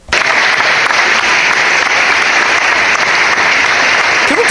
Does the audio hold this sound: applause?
yes